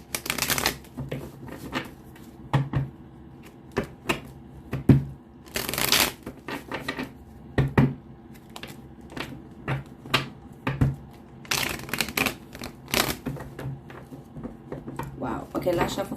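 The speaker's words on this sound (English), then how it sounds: "last shuffle for Aquarius" A deck of tarot cards is shuffled up close in repeated bursts of crisp riffling and slapping, pausing between rounds, while a voice talks quietly in between.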